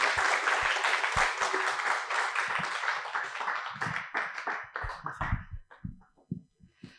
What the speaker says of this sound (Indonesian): Ini moderator kita hari ini, boleh tepuk tangannya?